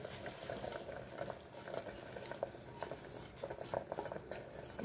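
Sweet pongal being stirred with ghee-fried cashews and raisins, a steady, thick churning and squelching texture with soft scraping, close and continuous with no talking.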